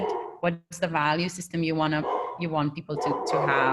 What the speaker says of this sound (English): That's my dog. I hope you don't hear her too much.